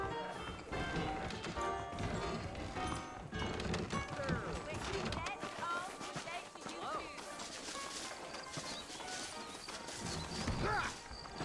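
Horses' hooves clip-clop in the Red Dead Redemption video game, set in New Austin with saddled horses out front, the steady hoofbeats mixed under music, effects and voices talking throughout.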